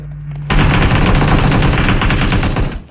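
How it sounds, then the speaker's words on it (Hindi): Rapid AK-47 automatic gunfire in the video game BGMI, a loud dense burst of fast repeated shots starting abruptly after a brief low hum and running nearly three seconds before tapering off. "सलमान खान और संजय दत्त पर गोली चलाया"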